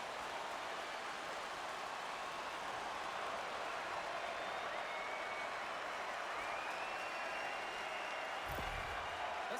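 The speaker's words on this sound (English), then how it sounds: "The Sabres crowd has really come to life here early in this first period after that goal." The Sabres home crowd in the hockey video game NHL 26 roars after a goal, a dense and sustained wash of cheering and applause that stays loud and even throughout, with a brief low thump near the end.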